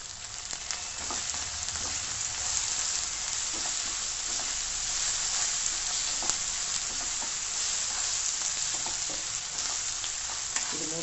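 Onion, ginger, garlic and green chili sauté in oil for a beef curry, giving a dense, steady hiss and sizzle with faint occasional stirring, close and continuous, without voices.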